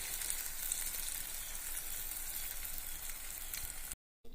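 Banana fritters (pazhampori) dipped in dosa batter frying in hot oil, a steady bright sizzle throughout that cuts out briefly near the end, with no talk.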